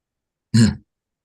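A single short, gruff cough or throat-clearing sound, close by, isolated in silence.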